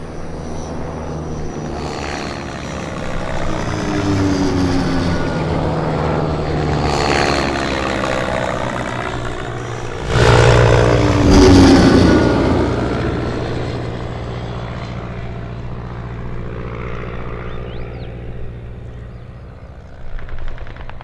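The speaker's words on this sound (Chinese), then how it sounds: "鬼子的飞机来了" Wartime Japanese military propeller aircraft approaching in an anti-Japanese war drama, a sustained droning engine roar that swells louder midway, then holds steady without talk.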